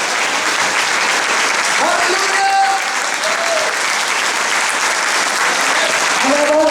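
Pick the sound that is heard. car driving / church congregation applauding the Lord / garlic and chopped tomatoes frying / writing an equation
church congregation applauding the Lord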